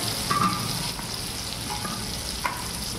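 Pointed gourd (potol) frying in oil makes a steady close sizzle with a few brief scraping stir sounds, fairly even in level throughout the short stretch, with no talking.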